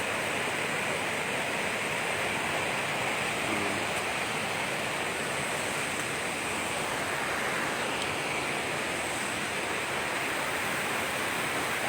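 The waterfall at Tagong Paraiso in Mindoro Oriental pours with a steady, dense rushing roar, constant and broadband throughout without any voices.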